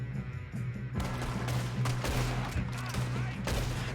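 Gunshots in Red Dead Redemption 2, a rapid string of sharp cracks over a low droning hum, beginning after a quiet opening and continuing as a busy firefight, with no voices.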